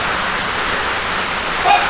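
Heavy rain pours steadily during a thunderstorm, a dense broadband hiss that stays constant and loud throughout, with no voices.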